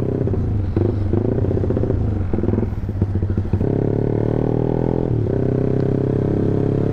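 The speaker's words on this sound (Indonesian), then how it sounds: "kita coba ini start dari RPM 1000 udah saya aktifin untuk quick shiftnya. Jadi kalau kalian dengar suara ledakan, nah kira-kira seperti itu." A Yamaha MX King motorcycle with an MBRTech quick shifter runs loud and near, its engine rumbling steadily while brief pops and crackles mark the shifts as revs change.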